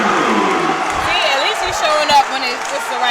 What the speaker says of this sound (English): The Averett crowd getting behind their team